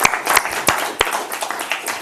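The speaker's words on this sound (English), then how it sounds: "Give yourselves a tremendous round of applause." An audience at a Commission for Behavioral Health meeting applauds at the close of a two-day session, with scattered sharp claps standing out from the lighter clapping.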